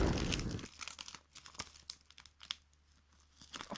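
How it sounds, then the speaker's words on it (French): Small pieces of tape are peeled off a surface, giving close, faint crinkly tearing and crackling sounds in short irregular bursts after a brief louder rustle at the start, with no talk. "Donc on enlève les petits bouts de scotch."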